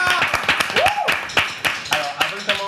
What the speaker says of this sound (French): Géraldine, si on peut l'applaudir